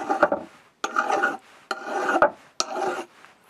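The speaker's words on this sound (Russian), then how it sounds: "Она абсолютно свободно обрабатывается обыкновенным напильником." A hand metal file rasps across a steel repair quill for a TV-7 lathe tailstock in four steady strokes, each a loud, close, gritty scrape followed by a short pause.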